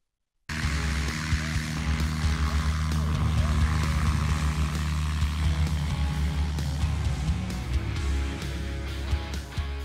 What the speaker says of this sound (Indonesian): Pesawat lepas landas dengan cara ditarik oleh pesawat bermesin.